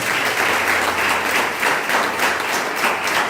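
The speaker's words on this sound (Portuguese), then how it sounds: "Vamos dar uma salva de palmas para Jesus" A church congregation breaks into applause for Jesus, a loud, dense clapping that swells in gentle waves over a few seconds.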